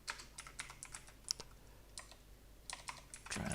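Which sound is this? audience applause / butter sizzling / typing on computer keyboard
typing on computer keyboard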